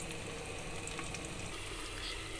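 A covered side dish simmers in a pot over a low stove flame, giving a soft, steady bubbling hiss that stays faint and continuous without any talk.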